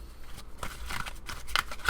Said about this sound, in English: I'll take the bottom of these cards and then continue shuffling.